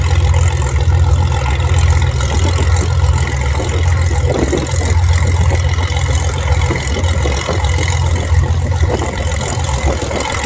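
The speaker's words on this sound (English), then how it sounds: "with numerous aircraft started up" Numerous aircraft engines started up and idling at an airfield air show on a windy day, a steady loud droning rumble that holds without letup, with no voices over it.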